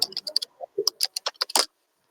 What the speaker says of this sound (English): somebody's typing something